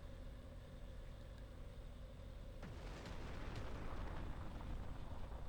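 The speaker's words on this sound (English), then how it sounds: "So we have artillery here. I'm gonna wait for it to stop firing," Artillery firing in the Ground Control strategy game, a continuous rumbling barrage that swells partway through with sharp booms and crackling bursts layered over the steady low roar.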